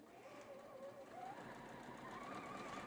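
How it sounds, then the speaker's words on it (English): A sewing machine stitches batik quilt fabric with an edge guide, giving a soft, continuous low hum that stays steady and fairly faint throughout. "I'm going to sew all the way through to the end"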